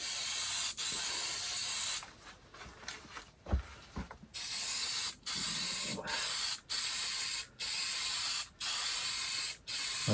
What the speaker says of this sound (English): but the sprayer is not very good on these.